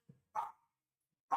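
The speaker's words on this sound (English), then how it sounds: "You're just barking to bark." A dog barks in short sharp bursts, two quick barks and then a third, close and fairly loud with silence between them.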